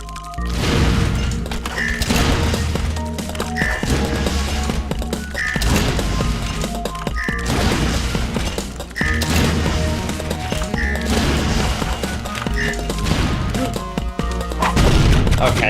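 Missiles explode one after another in a custom level of the Super Meat Boy video game, a loud, steady run of game blasts and thuds repeating at a regular rhythm under a busy soundtrack, with no voices.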